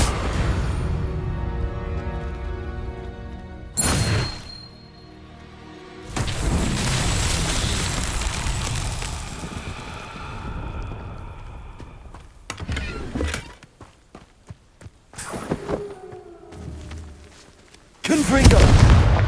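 Confringo blasting spells go off in the game Hogwarts Legacy, with a string of loud booming blasts and crackling bursts at uneven intervals, some long and rumbling and others short, separated by brief quieter spells.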